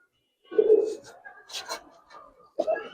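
A Giribaz coloring pigeon coos after a female is released, giving low throaty coos in short bouts with pauses between, close and moderately loud, with a brief voice in between.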